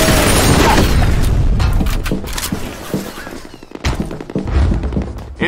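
A grenade blast in the online shooter F.E.A.R. Combat, a loud rumbling boom with scattered thuds and gunfire-like crackle filling the whole stretch, with some game voice chatter mixed in.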